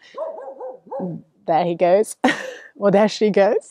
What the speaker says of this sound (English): as I'm walking through the town, you will hear them barking